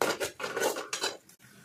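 A spoon scrapes and clinks against a pan as ginger-garlic paste is stirred and fried, giving several short, close metallic strokes that end in a sharp knock.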